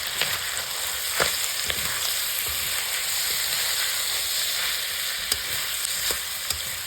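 Ginger and garlic dry-frying in a pan for an Assamese pork dish, a steady close sizzle and hiss with occasional scraping stir clicks, continuous for several seconds without talk.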